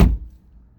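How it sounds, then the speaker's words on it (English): A 2019 Ford Edge SEL AWD door shuts close by, a single short, deep, solid thunk that dies away quickly with no rattle. "If you get into a vehicle and you want to see how well made it actually is, shut the door and see if you hear any rattling."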